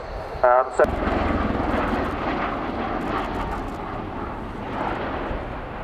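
USAF Boeing CV-22B Osprey tiltrotor at an airshow passing overhead as its engine nacelles rotate toward rotor-borne flight, a loud, steady broadband engine and rotor roar sustained throughout, with a brief sharp burst near the start.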